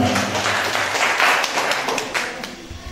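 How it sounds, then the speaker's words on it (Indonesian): Hands clap together at a high school reunion gathering, a moderate wash of applause that swells in the middle and gradually thins out. "Tepuk tangan."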